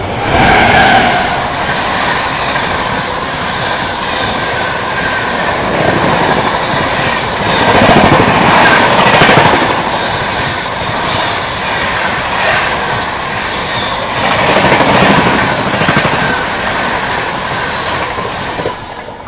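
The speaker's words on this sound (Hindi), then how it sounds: "Ranchi Rajdhani parallelly overtaking, Patna New Delhi Amrit Bharat." The Patna–New Delhi Amrit Bharat Express runs at speed while another train overtakes alongside, giving a loud continuous rumble with rhythmic clickety-clack of wheels over rail joints and swelling passes of noise.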